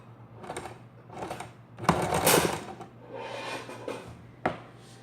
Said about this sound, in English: you're going to start your stitch and then do a little reverse stitch to lock it in